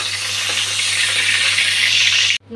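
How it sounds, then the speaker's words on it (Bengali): Dried red chilli dropped into hot oil gives a loud, close, steady hissing sizzle that stops abruptly near the end. "শুকনো লঙ্কাটা আগে দিয়ে দিচ্ছি।"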